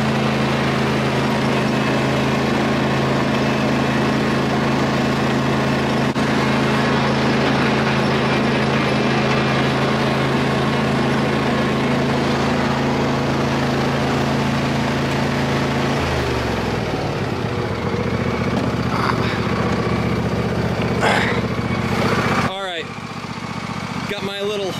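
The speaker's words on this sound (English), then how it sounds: "now we're going to hop on the tractor" A tractor engine runs steadily at close range in a backyard during spring lawn care, a loud low idle with a constant drone that drops in pitch near the end before a few clanks.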